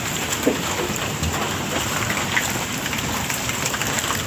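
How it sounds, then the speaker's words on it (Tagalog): Heavy rain from a typhoon pours steadily with gusty wind roaring through banana trees outdoors, a constant broadband wash with scattered drop impacts throughout. "Medyo ano yung ulan pero pabalik-balik po yan ang hangin ng malakas."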